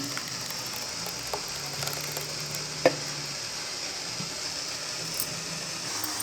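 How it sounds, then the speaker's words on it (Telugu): Tempering spices for a chutney sizzle and crackle steadily in hot oil, a constant hiss with scattered small pops and a couple of sharper clicks. "దీనికి తాలింపు వేసేద్దాం"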